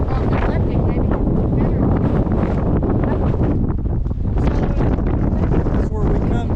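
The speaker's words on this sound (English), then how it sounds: "It is really bad windy out here" Strong wind roars steadily across the microphone at Fort Fisher beside the Cape Fear River, a loud, continuous buffeting that barely lets up, with voices partly buried beneath it.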